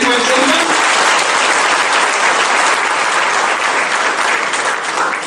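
An audience at a birthday felicitation event applauds with loud, dense, sustained clapping that stays close and steady and eases off only slightly at the end.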